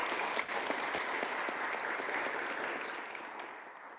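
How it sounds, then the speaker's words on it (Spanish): After a medical talk on acute abdomen, an audience gives the doctor sustained applause, a dense even wash of clapping that fades slightly toward the end, with no speech over it. "quiero darle un fuerte aplauso pues, por la charla que nos dio"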